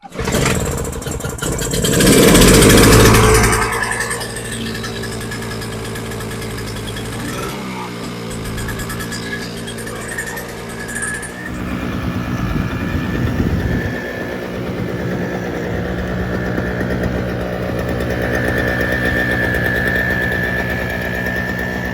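A Toro CCR2000E two-stroke snowblower engine, running on fresh 50:1 non-ethanol fuel after a carburetor cleaning, fires up with a loud burst and then settles into a steady, continuous run with no talk over it.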